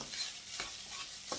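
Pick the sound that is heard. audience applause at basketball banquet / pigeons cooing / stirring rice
stirring rice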